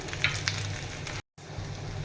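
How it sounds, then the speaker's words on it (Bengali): Potatoes frying in oil with salt sizzle steadily in a pan, a soft continuous hiss broken by a few scraping stirs, close and fairly quiet. "আলুটা এভাবে নাড়াচাড়া করলাম আবার একটুখানি তেল দিয়ে আবার একটু নাড়াচাড়া করে"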